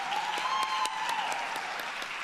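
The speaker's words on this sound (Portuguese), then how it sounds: "gostaria primeiramente de uma salva de palmas para todos que estão aqui presentes" Applause fills a city council chamber during an extraordinary session, a steady round of clapping with a few sharper individual claps and a faint tone beneath.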